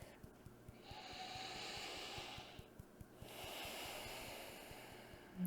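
A slow, deep breath in and out during a tapping meditation, two long soft airy swells, quiet and close, over faint rhythmic ticking.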